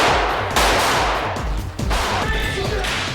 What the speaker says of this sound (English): There's a lot of bullet effects